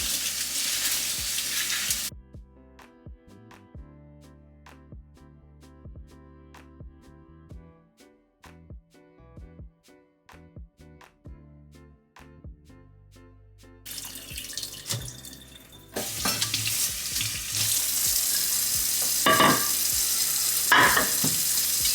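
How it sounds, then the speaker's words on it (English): Tap water runs over cabbage in a colander, starting loud, stopping for a quieter stretch of clinks and handling, then returning as a steady, full splashing stream. "So now I'm gonna put this in my colander to wash it and clean it real quick."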